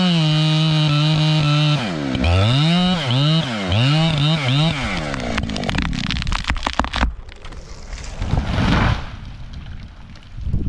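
A chainsaw cutting a massive tree revs with a buzzing tone that rises and falls in pitch, then gives way to a harsher, noisier cutting roar with sharp cracks, loud and close.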